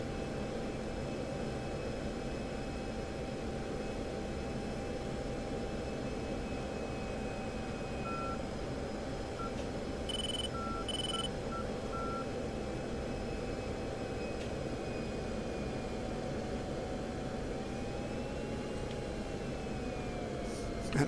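An F-16 jet in the DCS flight simulator rolls along the runway after landing, a steady loud broadband engine roar with a constant whine, a few short high beeps partway through.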